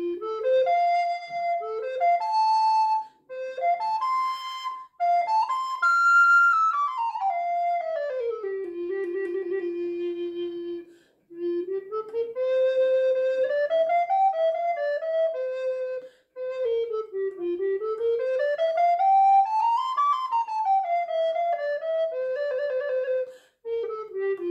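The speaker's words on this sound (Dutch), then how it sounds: "Wow, mooie fluit is dit." A recorder flute bought secondhand at a thrift shop plays a clear, bright melody of rising and falling runs, close and steady, with only brief pauses between phrases and no talk.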